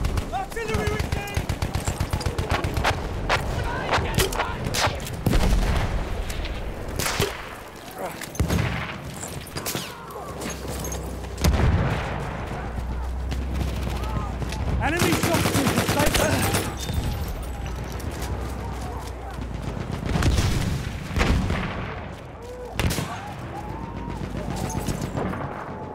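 Artillery barrage and machine-gun fire in the Battlefield 1 assault at St. Quentin Scar. Dense, continuous gunfire crackles with repeated heavy booms and low rumbling blasts over about 26 seconds, loud and chaotic, with game voice lines mixed in.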